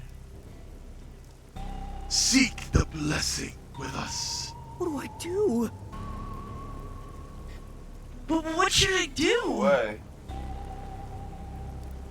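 Rain from the video game Rain Code falls as a steady hiss beneath game music tones and voiced dialogue that repeatedly talks over it.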